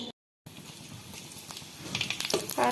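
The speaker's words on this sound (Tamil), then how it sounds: "இப்போ இதை நம்ம ஃப்ரை பண்ணி பார்க்கலாம்." Dried white pumpkin vathal fries in hot oil with a dense, crackling sizzle that starts after a brief silence and grows busier toward the end.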